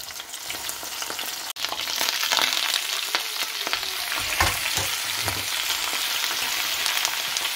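Sliced onions frying in a pan, a loud continuous crackling sizzle close by, with a sharp click early on and soft knocks of stirring near the middle, no voices.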